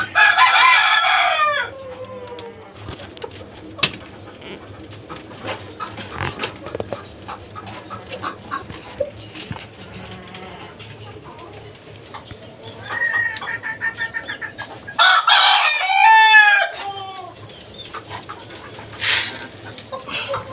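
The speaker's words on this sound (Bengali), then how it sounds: "আর এই হচ্ছে আমার ঘরের সাদা মোরগ।" Chickens and a white rooster kept in cages on a rooftop farm of tiger-breed hens: loud crowing bursts open and close the stretch, with scattered clucks and softer fowl calls between, close by.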